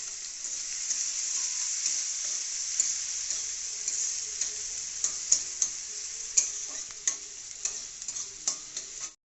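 Finely chopped onion fries in a pan with dried red chilli, making a soft, continuous sizzle with a series of sharp clicks and taps from stirring that grow more frequent toward the end; nobody speaks.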